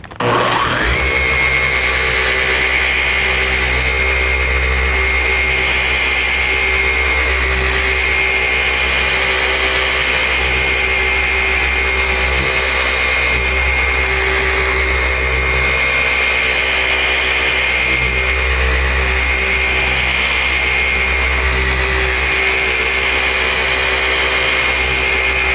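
A car polisher runs steadily on speed setting 5 while finishing paint to a high gloss, a loud continuous motor whine that holds an even pitch throughout with no voices.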